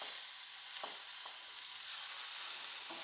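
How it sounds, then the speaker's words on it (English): Chopped tomato sautés in a pan, a soft, continuous hiss of frying with a few brief scrapes of stirring, quiet and close, with no talking. "Saute it for a while."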